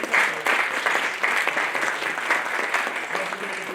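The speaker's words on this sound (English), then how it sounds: "So big round of applause, you guys." An audience at a school athletic recruitment night gives a round of applause. The clapping is steady, mid-distance, and many-handed, holds for a few seconds, and has no clear talk over it.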